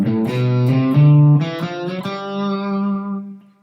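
Electric guitar plays a G Mixolydian scale with a swung, shuffle-style blues feel. The plucked notes alternate long and short, with a lightly driven tone, close and loud, ending on a sustained note that fades out.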